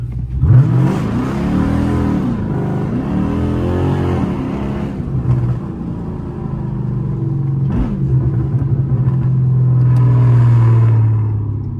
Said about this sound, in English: Let's make some tire smoke real quick, or try to.